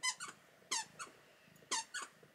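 A squeaky toy batted by a cat gives sharp, close squeaks in quick pairs, three bursts over a couple of seconds in a quiet room.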